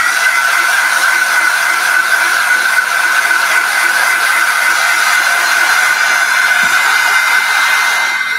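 A hair dryer blows steadily and loudly at close range to dry paint on a Christmas bauble, a constant unbroken whooshing drone throughout.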